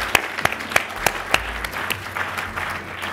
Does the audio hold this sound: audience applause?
yes